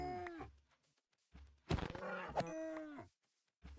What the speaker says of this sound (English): Have they changed all the cow sounds?